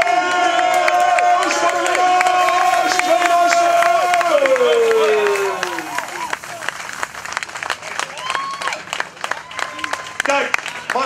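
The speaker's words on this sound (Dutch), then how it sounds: "Applaus voor de winnaar!" A crowd at a rally finish applauds and cheers for the winner, with sustained clapping and a voice calling out over the crowd before the clapping thins into scattered claps.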